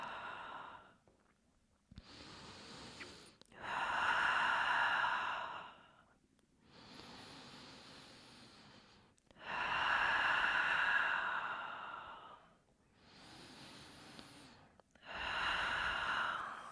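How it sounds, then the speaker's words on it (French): Deep yoga breaths follow one another in a slow, even rhythm: long airy inhales and exhales, close and clear, with short quiet pauses between them. "Grande inspire, grande expire."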